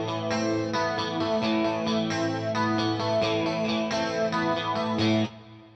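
An electric guitar runs through a flanger pedal set to a signature mode, giving a sweeping, whooshing, chorus-like swirl over distorted picked chords and notes that ring loud and close, then cut off abruptly.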